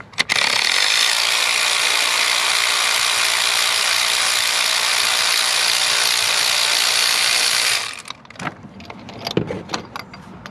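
A ratchet wrench clicks rapidly and loudly in a continuous buzzing run while loosening an engine's spark plugs, then stops and gives way to scattered clinks and handling noises of tools and parts.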